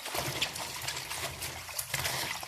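Water sloshes and trickles faintly as vegetables are rinsed in a bowl, a soft irregular splashing close by with no talk.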